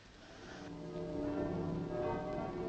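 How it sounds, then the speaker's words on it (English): Church bells peal continuously with rich ringing overtones, faint and distant, swelling slightly in loudness as they ring on. "So the bells are pealing after all, Edmund."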